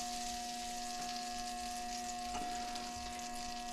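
Butter fries in a pan for Texas toast, making a soft, steady sizzle with a faint pop or two under a constant electric hum, with no voices.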